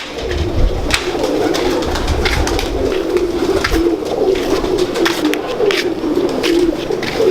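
Pigeons coo continuously in low, rolling, throaty calls that overlap one another, close and fairly loud, with no voices.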